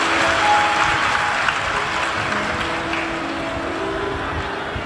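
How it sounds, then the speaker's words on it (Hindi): A large audience at a live Shiv Mahapuran religious discourse applauds to welcome the host family, a loud, dense, continuous wash of clapping that holds steady throughout. "यजमान परिवार के लिए एक बार जोरदार ताली बजाकर स्वागत"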